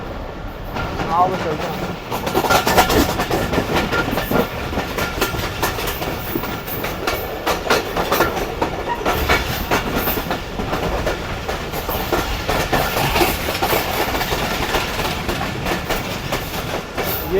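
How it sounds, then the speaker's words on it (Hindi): Khyber Mail passenger train rolling on rails as its brakes begin to apply, with steady clickety-clack and a continuous wheel rumble heard from on board, while someone speaks briefly over it. "ब्रेक्स आप देख सकते हैं कि लगना शुरू हो गए ट्रेन के।"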